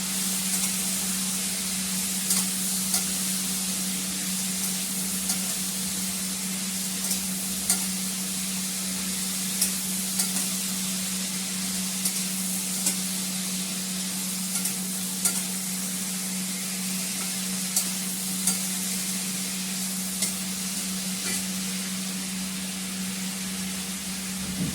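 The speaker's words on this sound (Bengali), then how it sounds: "আগে একটু ভালো করে কষিয়ে নিই।" A homemade spice mix sizzles and fries in a pan while it is stirred steadily, with a constant hiss and a hum underneath and occasional soft scrapes, close and continuous with no talking.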